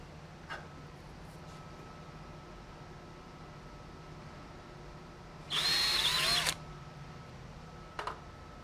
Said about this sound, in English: I need to pre-drill a hole within the first 12 inches or so toward the bottom of the panel